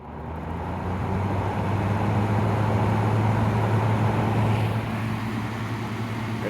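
1996 Whirlpool window air conditioner running on low fan, a steady motor hum with a low tonal drone and broadband airflow whoosh, fairly loud and constant throughout.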